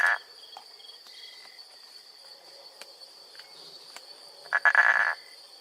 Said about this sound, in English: Frog.